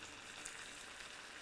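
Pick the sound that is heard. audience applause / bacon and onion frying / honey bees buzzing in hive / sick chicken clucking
bacon and onion frying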